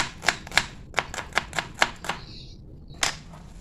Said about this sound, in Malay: Saya juga gunakan sebiji bawang besar untuk saya hiris-hiris